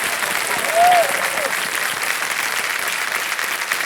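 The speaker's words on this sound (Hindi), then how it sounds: "एक बार फिर जोरदार तालियां बज जाएं इनके लिए।" A studio audience on the Kaun Banega Crorepati 14 quiz show applauds in a continuous, even roar of many hands. A brief tonal sound is heard near the start.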